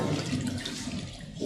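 Vegetables being rinsed in a restaurant kitchen, with water rushing and splashing steadily from a tap into a sink, close and fairly loud, no talk.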